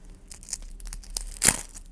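A paper surprise packet tears open with a sharp crinkling rip near the middle, surrounded by quieter rustling and handling of the paper, close and fairly soft.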